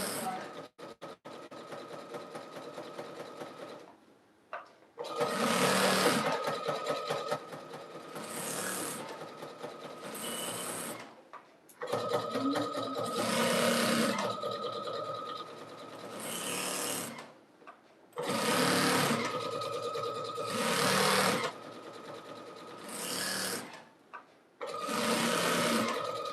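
A sewing machine stitches a jelly roll rug in close, loud bursts of steady mechanical whirring, broken by short pauses as the work is repositioned.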